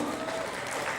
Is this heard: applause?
yes